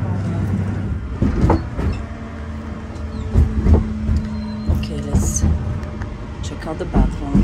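An AVE high-speed train interior travelling from Madrid to Valencia, Spain, with a steady low rumble, a constant hum and periodic clunks and rattles, while a voice talks over it.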